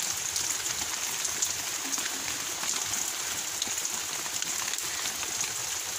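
Steady rain falls and patters across surfaces outdoors, a dense even hiss with scattered drop ticks throughout, no voices heard.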